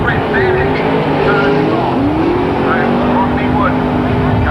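Speedway race cars lapping a track at a Wellington Wildcats meeting, engines droning and whining steadily at mid distance, pitch sweeping as cars pass, loud and continuous with a busy crowd and commentary wash beneath.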